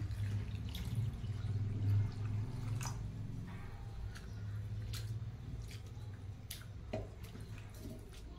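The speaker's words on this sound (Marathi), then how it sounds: "आता हे पोहे आपण स्वच्छ धुवून घेऊया।" Flattened rice (poha) is rinsed in water, giving faint squishy stirring, scattered drips and light splashes over a steady low background hum.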